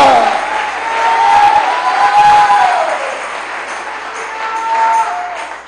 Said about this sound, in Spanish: Fuerte ese aplauso al Cristo de la gloria